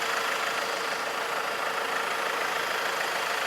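A farm tractor engine idles during haylage making, producing a steady, even mechanical drone that stays loud and unchanging with no talking.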